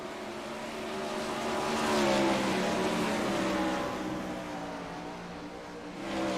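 Non-wing 410 sprint cars roar around the dirt oval at Volusia in a heat race, their engines blending into a loud, continuous drone that swells as the pack passes and then fades slightly.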